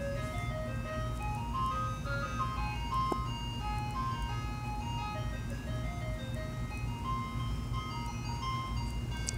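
An ice cream truck drives past outside, its chiming tune looping steadily through the whole stretch over a constant low engine rumble.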